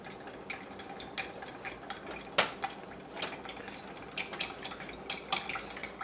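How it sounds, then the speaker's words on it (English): Raw cacao powder is stirred into melted body butters, giving soft, irregular clinks and scrapes of a utensil against a container, quiet and close, with no talking. "I'm going to add my raw cacao powder and give it a stir so that it dissolves."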